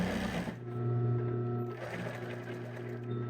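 Sewing machine stitching a postpartum bra, a close rapid mechanical whirr with a brief slowdown midway before resuming, no voices.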